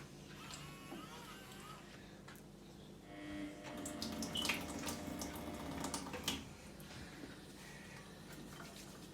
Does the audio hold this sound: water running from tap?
yes